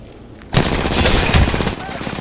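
Rapid automatic gunfire in the video game Apex Legends bursts in loudly after a brief lull and continues as a dense stream of shots.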